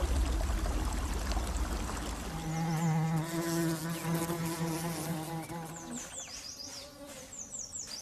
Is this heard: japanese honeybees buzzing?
yes